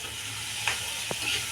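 Spiny gourd (kantola) cooks in oil in a covered pan, giving a low, steady sizzle with a couple of faint clinks or stirs over the hiss.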